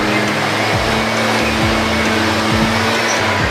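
A mixing machine runs loudly and steadily during a barangay misting operation, a constant broadband roar with low mechanical hum and occasional clunks, no talk over it.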